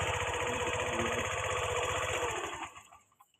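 A small Scooty scooter engine with starting trouble and a power supply fault idles nearby with a steady, rapid putter, then shuts off and sputters into silence.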